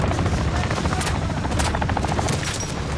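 Helicopter dropping paratroopers in a video game, a steady dense rotor roar throughout with bursts of gunfire crackling over it, loud and close.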